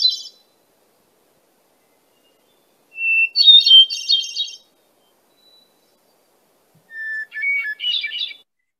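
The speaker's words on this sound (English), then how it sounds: "Hermit thrush is our state bird. Here's his beautiful, normal song." Two clear, flute-like bird phrases ring out, each opening on a held whistle and spiralling upward, separated by silence, with a brief fading note at the start.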